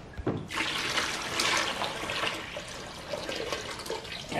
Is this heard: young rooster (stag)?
no